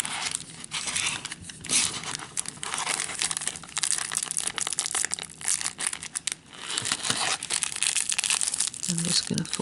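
Cookie treat holder packaging folded by hand and fastened with tape, giving close crinkling and crumpling with tearing snaps and crunches that continue steadily with little pause.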